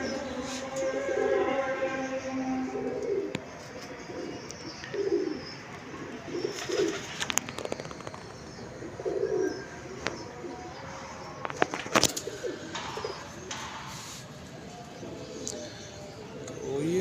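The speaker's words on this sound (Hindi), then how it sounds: "पर माशाल्लाह कबूतरों के ठीक आ रहे हैं अभी तक" Pigeons on a rooftop give soft, repeated coos amid small flutters and clicks, fairly quiet and close.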